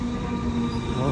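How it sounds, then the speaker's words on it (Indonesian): An electric train runs at a railway station in Melbourne, giving a steady close rumble and a sustained wheel squeal under a faint voice. "Oh, kereta bukan kereta api, kereta listrik."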